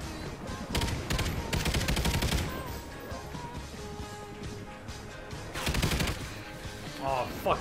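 Rapid bursts of automatic gunfire in a team deathmatch shooter video game, loud and close, come in several clustered volleys with brief lulls between them.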